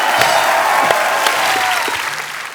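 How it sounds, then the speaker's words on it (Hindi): Studio audience applause on an Indian television comedy show, a loud, even burst of many hands clapping that holds steady and then begins to taper, with faint voices underneath. "और एक बार जोरदार तालियां रणबीर कपूर और ऐश्वर्या राय के लिए"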